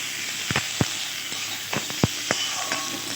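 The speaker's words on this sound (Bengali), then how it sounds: "দিয়ে ভালোভাবে নেড়ে চেড়ে আমি মশলাটা ভেজে নেব।" A spice paste with sesame seeds and tomatoes frying in a pan for a flour gluten curry, with a low steady sizzle and several sharp spatula scrapes and taps spaced through it.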